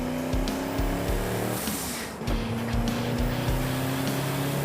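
A boosted race car engine at Laguna Seca drones steadily through turn 5, its even harmonic roar held in check, with a brief dip and a sharp pop midway before the engine picks back up.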